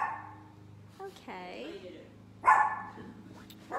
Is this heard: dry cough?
no